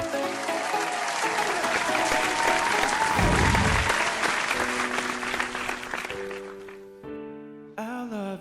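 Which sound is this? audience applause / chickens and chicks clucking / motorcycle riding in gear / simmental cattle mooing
audience applause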